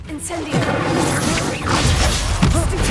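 A fire spell cast in Hogwarts Legacy bursts with a loud whooshing roar and crackling flare, sustained for a few seconds with dense rushing noise and short cracks layered through it.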